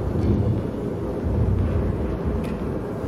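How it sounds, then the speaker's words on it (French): Stage thunder effect being tested during a theatre rehearsal for a storm piece: a continuous low rumbling roar with swelling surges, steady and fairly loud throughout, no voices. "Des coups de tonnerre se font entendre, on teste des effets, des trucs."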